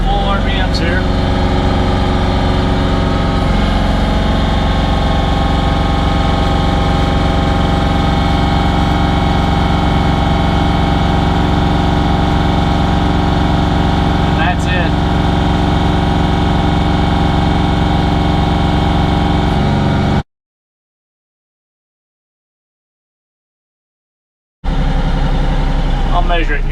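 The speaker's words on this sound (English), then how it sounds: "So I'll go to full RPMs here." A Bobcat tractor engine runs at full RPM, a loud, steady, close mechanical drone with a constant vibrating hum. The sound cuts out completely for several seconds near the end, then resumes.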